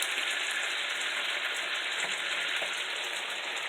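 Asparagus sizzles in a hot pan with garlic, lemon and chicken, a steady, close, even frying hiss that holds without break and with no voices over it.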